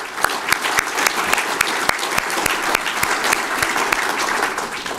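A crowd at a Republican Party Reagan Day dinner in Jackson, Tennessee breaks into loud, close applause, dense rapid clapping with sharp individual claps popping out, steady for several seconds.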